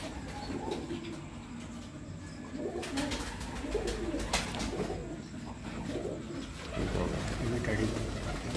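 Pigeons coo in soft, repeated low calls amid a busy outdoor background with a low rumble and occasional louder bursts.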